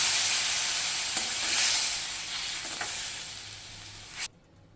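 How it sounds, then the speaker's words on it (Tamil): About half a cup of water is poured into gravy in a hot pan. It sets off a loud, broad sizzling hiss that slowly fades, then cuts off abruptly near the end. "ஒரு 1/2 கப்பு ஜலம் ஊற்றிக்கலாம்."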